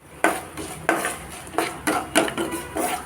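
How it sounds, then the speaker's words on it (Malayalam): Garlic and coconut pieces fry in a pan while a metal spoon stirs and scrapes them, giving five or six sharp clanks at an uneven rhythm. A soft frying hiss runs underneath, and no one speaks. "ഇത് നല്ലവണ്ണം ഒന്ന് മൂപ്പിച്ച് കോരിയെടുക്കാം."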